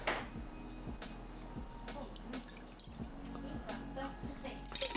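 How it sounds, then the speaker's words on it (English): Pork broth drips and trickles into a pan in short bursts, with a low steady hum underneath and quiet kitchen clatter. "So I'm gonna pour a little of the pork broth in the pan"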